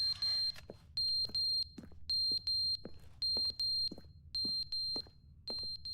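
Smoke alarm in The Stanley Parable chirping in steady pairs of shrill, high beeps, about six double-chirps over a low hum, loud and close with no talk.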